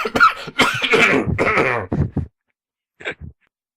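During a Paranoia tabletop game session, a player has a harsh, rapid coughing fit lasting about two seconds. After a pause, two short throat-clearing coughs follow.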